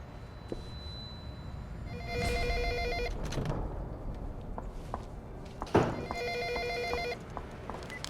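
An old-style telephone bell rings in bursts indoors, repeating several times with short pauses and faint knocks or thuds in between, no talking.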